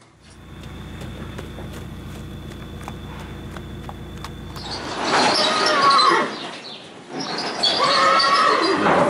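A racehorse lets out a loud, close whinny that rises and breaks into rough bursts, preceded by a low steady rumble with faint rhythmic ticking.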